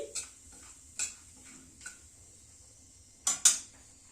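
A utensil stirs a quarter teaspoon of asafoetida in a pan over a very low gas flame, making a few sharp, isolated scraping clicks against the metal, spaced irregularly, with a louder double clink near the end and quiet gaps between.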